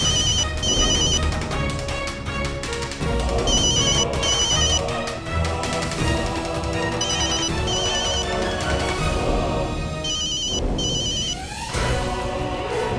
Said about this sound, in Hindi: अरे भाई ये तो केबल वाले का फोन है।